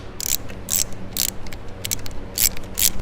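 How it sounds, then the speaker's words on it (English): Allen bolts being tightened on a motorcycle transmission case during an open belt drive primary install give off a close run of quick ratcheting clicks in short repeated bursts, with no talking. "tighten our 2 Allen bolts up"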